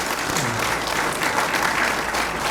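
A church congregation applauds throughout at a dedication and founding service, the clapping dense, steady and unbroken from start to finish, with no voices standing out.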